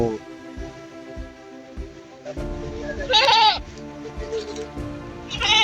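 A goat bleats loudly several times, its wavering cries rising over soft background noise and low thumps nearby.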